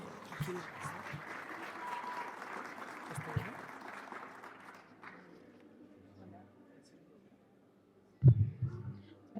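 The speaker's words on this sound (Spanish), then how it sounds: "Un fuerte aplauso para ella, por favor." Audience applause at a cultural forum in Oruro, dense steady clapping for about five seconds that gradually fades, followed by a near-silent pause and then brief close handling thumps.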